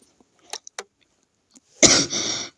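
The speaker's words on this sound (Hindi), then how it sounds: "थोड़ा खांसी है गया है" A single person coughs and clears their throat close up, a harsh burst of about three-quarters of a second after a few faint small sounds.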